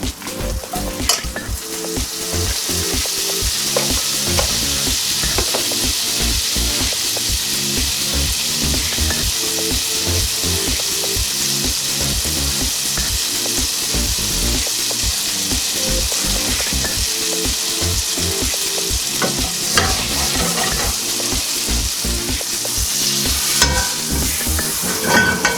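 Butter sizzles and fries in a cast iron pan and a sauté pan over medium heat, a loud steady crackle alongside repeated scraping and stirring clatter.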